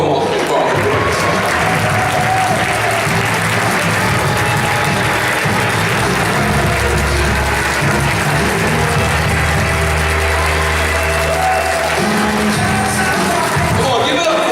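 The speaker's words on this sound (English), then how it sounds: "Let's give them a round of applause." An audience at a sales company's rookie awards event applauds loudly as rookies come on stage, a thick continuous roar of clapping mixed with crowd noise and a low rumbling hum, with voices mixed in.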